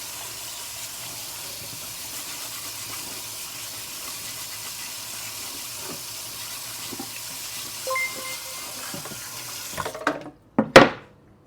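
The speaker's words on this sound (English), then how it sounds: "Quick wash this cutting board, because it hasn't been used in a while." A cutting board that has sat unused and gathered dust gets rinsed under a running kitchen tap, with a steady stream of water into the sink and louder splashes and clatter near the end.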